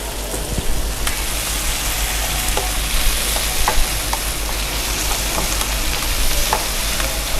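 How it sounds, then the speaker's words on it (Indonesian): Garlic, onion and bell pepper sauté in hot oil in a pan, a loud continuous sizzle broken by occasional stirring scrapes and crackles, with no talking. "Nah ini kita tumis dulu aja sampai layu ya, 2-3 menit."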